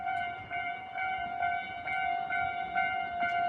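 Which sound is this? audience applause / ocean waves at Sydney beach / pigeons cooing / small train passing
small train passing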